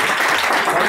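Audience applause at an evening talk about Microsoft HoloLens, a loud, dense and steady burst of clapping filling the whole moment.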